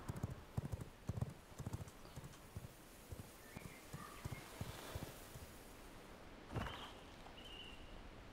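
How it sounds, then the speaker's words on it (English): Horse hooves clip-clop in the video game V Rising, a fairly faint, irregular run of soft hoof steps, with a brief louder thump near the end. "There's like a horse I had here at some point."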